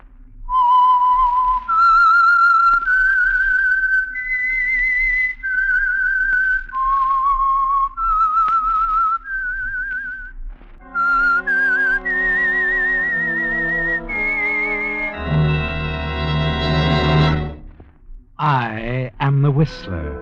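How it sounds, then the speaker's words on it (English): Whistled theme identifying the Signal Oil radio program The Whistler, a lone eerie melody of sustained notes that gives way to orchestral music with a rising sweep at the end. "the signal to listen for is this whistle that identifies the Signal Oil program"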